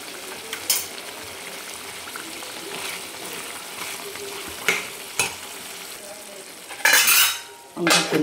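Mutton stirred in a pot with a utensil for a dry village-style mutton dish, scraping and clinking irregularly against a low simmer, with a louder clatter near the end; close and moderately loud, no voices.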